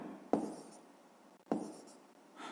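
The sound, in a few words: writing an answer by hand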